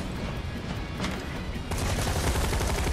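Gunfire from Final Fantasy 7 Remake rattles in dense, rapid bursts, loud and close, intensifying partway through amid battle noise.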